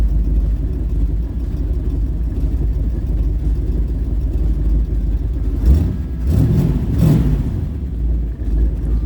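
A truck engine fitted with new spark plugs idles with a steady low rumble, then revs in two short blips near the end before settling back to idle.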